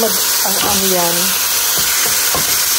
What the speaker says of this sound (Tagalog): isosaute ko yung ground beef next